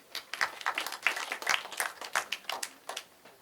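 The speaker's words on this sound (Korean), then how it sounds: "박수 한번 보내주세요." Audience at a high school student debate forum claps in a brisk, moderately close burst of applause, steady individual claps for a few seconds with no talking.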